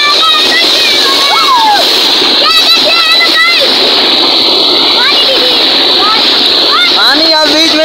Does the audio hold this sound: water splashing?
yes